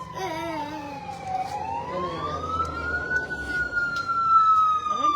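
Fire truck siren wailing nearby beside a road where a utility pole is burning, its pitch sweeping slowly down and back up, loud and steady over traffic hum and faint voices.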